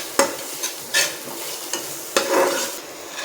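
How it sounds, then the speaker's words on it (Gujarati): Sizzling onion, tomato, capsicum and ginger paste gets stirred in a pan, several sharp spoon scrapes and knocks in an uneven rhythm over a soft frying hiss. "હવે આપણે બધું બરાબર મિક્સ કરી લઈશું."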